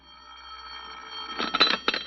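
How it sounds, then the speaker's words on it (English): A telephone rings in an old mystery radio drama, a short metallic bell burst that rises out of quiet room tone, rings twice in quick succession and stands alone without talk. "you sit at home quietly in the chair by the phone, waiting for it to ring"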